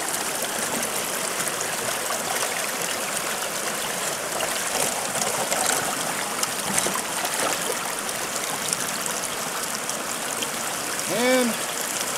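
Water streams steadily through a gold sluice box lined with Gold Hog mats, a continuous broadband rushing and trickling that stays even throughout, with a brief tonal squeak near the end.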